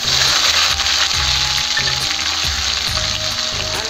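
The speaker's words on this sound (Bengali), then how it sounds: "এই যে ভালো করে কষাই নেবো এই মশলাটা" Onion, garlic and ginger paste fries in oil with cumin, bay leaf, cinnamon and cardamom, a loud dense sizzle with rhythmic low scraping strokes of stirring repeating steadily.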